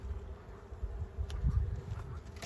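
Honeybees buzz faintly around an open hive during colony work, a soft, steady hum mixed with gusts of wind and rustling, with no talking.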